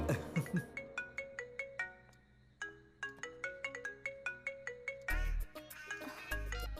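A phone ringtone plays a repeated melodic electronic phrase while a call to a loved one connects, clear chiming notes in steady bursts, ending with a couple of louder thumps.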